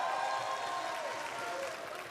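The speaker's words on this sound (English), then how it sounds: "Big round of applause." Audience applause fills a large hall during The Game Awards 2014, a steady wash of clapping from a big crowd that carries on without pause and fades a little toward the end.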